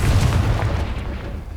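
A Confringo fire spell detonates in Hogwarts Legacy with a deep, rumbling boom that starts loud and decays over about a second and a half, with no voices over it.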